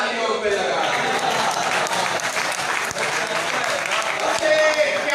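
Sustained audience applause at a lawyers' literary conference of the High Court Bar in Bahawalpur, loud and steady throughout, with a voice faintly underneath.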